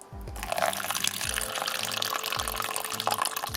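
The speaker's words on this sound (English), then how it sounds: "I'm going to top up her water bowl." Water splashes and trickles steadily as it is poured into a spider's water bowl, with a gurgling, bubbly texture close by, over faint low rhythmic thumps.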